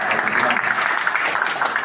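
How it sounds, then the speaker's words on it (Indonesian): Applause from the audience at a Christmas commemoration gathering held in a church hall, a dense steady patter of many hands clapping that carries through the whole moment at even loudness, with a voice faintly mixed in underneath. "Tepuk tangan sekali lagi."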